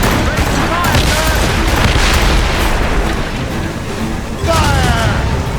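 Ship cannons fire in a naval battle in the video game Assassin's Creed Rogue, giving a dense, continuous barrage of booming shots and crackling impacts amid rushing wind and sea noise, loud throughout with a brief lull.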